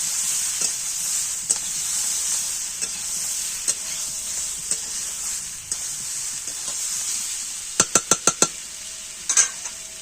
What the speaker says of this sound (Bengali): আদাটা ভালো করে এর সঙ্গে মিশিয়ে নেবেন